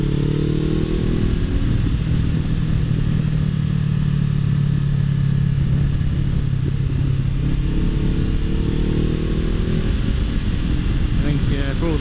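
A Honda CBR500R motorcycle rides through the mountains with a steady, loud engine drone and strong wind rush close to the rider, its pitch shifting slightly as it runs. A voice talks faintly beneath the noise.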